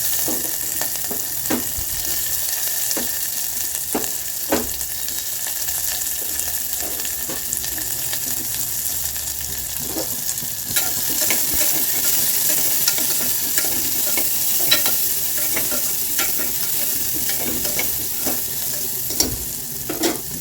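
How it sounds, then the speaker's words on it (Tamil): Shallots frying in hot oil with popped mustard seeds and urad dal give a steady close sizzle, broken by repeated scraping stirs. There is no talk. "இப்போ கடுகு உளுந்தெல்லாம் நல்லா பொரிஞ்சிடுச்சு. இப்போ நம்ம சின்ன வெங்காயம் சேர்த்துக்கலாம்."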